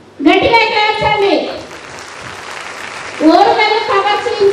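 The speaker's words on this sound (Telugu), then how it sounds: "సో రాణి రుద్రమాదేవి వాళ్ళు గట్టిగా క్లాప్సండి" A children's team claps loudly in a brief burst of applause, framed by group shouts and chanting from the kids before and after.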